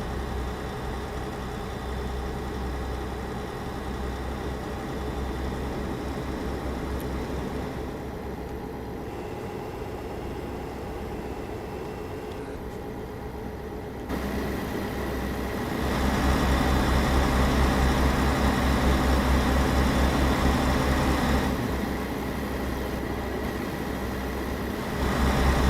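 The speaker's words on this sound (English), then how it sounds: "I think this engine actually sounds better in ETS too than it does in ATS. The 3406E." A Caterpillar 3406E truck engine in Euro Truck Simulator gives a steady, loud diesel drone that keeps going for the whole stretch and grows heavier partway through, with no talk over it.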